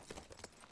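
Horse hooves clip-clop in The Last of Us, a few faint, quick hoof knocks in a short, quiet stretch.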